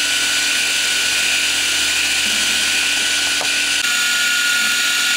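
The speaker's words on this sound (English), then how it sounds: "I'm just partially boring out the hole where the ball screw fits through." A PM 940 milling machine partially bores out the hole for a ball screw, with a steady, loud, high-pitched whine from the spindle and cut. One brief tick occurs partway through, and the sound settles slightly afterward.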